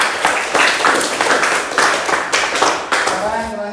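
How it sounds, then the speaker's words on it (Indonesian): Classroom applause for a student group, a dense burst of many hands clapping steadily for a few seconds, close and fairly loud with some voices mixed in. "Kasih aplaus untuk kelompok 2."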